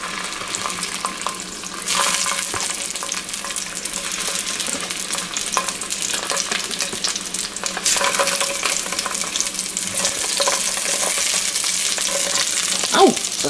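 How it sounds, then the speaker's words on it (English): Sausages sizzling and browning in a hot pan for pork jambalaya, a close, steady crackling fry with occasional stirring scrapes and louder surges of spitting fat. "We've got the sausages in there browning up"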